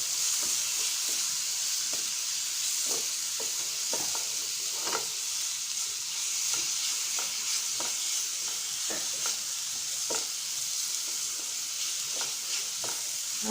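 A teaspoon of ginger garlic paste frying for Kerala-style chicken peralan, with a steady close sizzle and regular, even scrapes of a spoon stirring the pan throughout.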